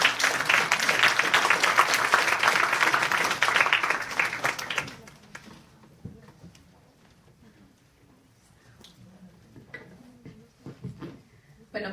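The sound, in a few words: audience applause welcoming the speaker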